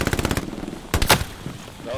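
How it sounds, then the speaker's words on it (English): Rapid repeating gunfire bursts in the World War II shooter Hell Let Loose on a Stalingrad map, followed by a sharp loud blast and rumbling impact as a Katyusha rocket barrage lands, with a faint tail. "Here comes Katusha."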